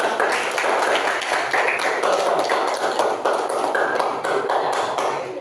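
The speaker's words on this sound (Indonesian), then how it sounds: "Oke, sekali lagi beri tepuk tangan yang sudah." Classroom students applaud together in a dense, steady burst of clapping that fills the room, continuous and fairly loud throughout, with no voices standing out.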